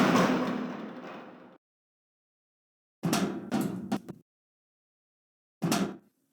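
A door opens in the video game The Stanley Parable, heard as a few separate thuds and clunks that follow a longer rumbling stretch and are set apart by silence.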